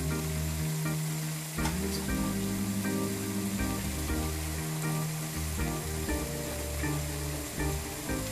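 Sliced zucchini hits a hot pan of boiled mixed vegetables being stir-fried Chinese restaurant style, giving a steady, close sizzle with faint stirring clatter and no talking.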